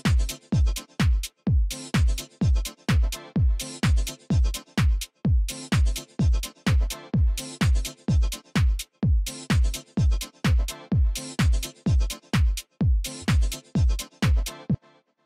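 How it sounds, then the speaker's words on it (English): A steady minimal house beat of punchy kicks, claps and ticking hi-hats loops under a bright, sustained synth loop, loud and continuous. "I have your basic kick, clap and hat pattern, and I've taken a synth loop"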